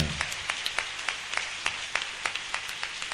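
A church congregation claps in a steady, even rhythm, with sharp claps about three per second, moderately close and without talk.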